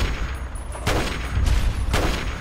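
Heavy Fallout 3 gunfire booms in loud repeated bursts, close and continuous across a short battle stretch with no talk over it.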